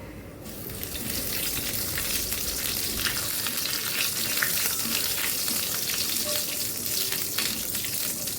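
Black cumin (kalo jeera) and panch phoron spices sizzle steadily in hot oil for a vegetarian chochori, a dense continuous frying crackle that holds loud and even throughout, with no voices.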